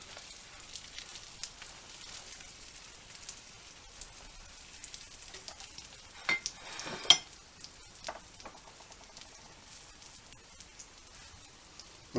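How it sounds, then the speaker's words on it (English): A crunch wrap sizzles as it fries in butter in a pan, a steady soft crackle and spatter with a few louder pops near the middle, heard close with no talk. "And we're just going to let that fry up."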